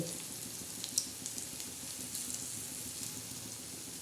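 Green chillies coated in besan and wheat flour batter fry in oil, giving a soft, continuous close sizzle with a few brief crackles and pops and no voices.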